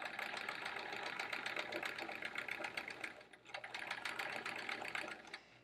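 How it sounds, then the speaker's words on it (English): A Brother sewing machine runs steadily, its needle mechanism making a fast, even rattling hum that is close and continuous, with a brief slowdown partway through before it picks up again. "you love the needle down on your brother sewing machine"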